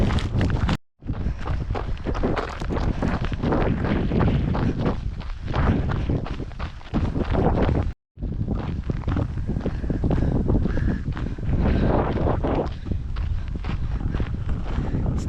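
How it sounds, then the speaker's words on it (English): Strong wind buffeting a microphone on an open hilltop during a long-distance training run, a loud continuous roar that breaks off twice briefly, with faint footsteps mixed in. "Definitely get cold up here, it's windy."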